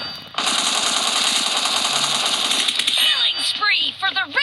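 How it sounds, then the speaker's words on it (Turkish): Rapid automatic gunfire rattles continuously in a video game, loud and dense for several seconds, then breaks into scattered shots and whizzing sounds near the end. "Çünkü bizim adamlar vuruyor."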